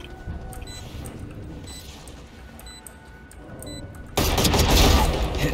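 Gunfire in the Valorant video game: faint ticks and light clicks give way to a sudden loud burst of shots near the end, with no talk.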